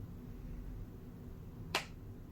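A single sharp click as a Samsung Galaxy Fold snaps shut when pressed, a brief crisp snap standing out over a low steady background hum.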